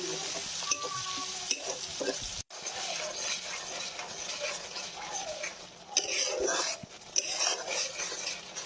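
Chopped onions fry lightly in a pan for a Bengali magur fish curry, soft sizzling under scraping stirs and a few clinks of utensil against metal.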